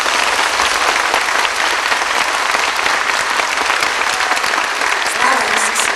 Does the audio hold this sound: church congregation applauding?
yes